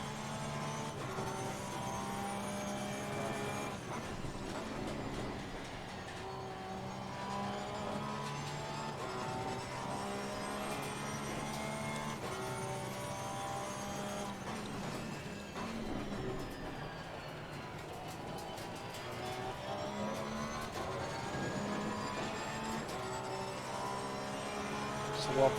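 A Porsche 911 GT3 R race car in Assetto Corsa Competizione at Oulton Park, its engine droning steadily at high revs with rising and falling pitch through gear changes, loud and continuous with no talk.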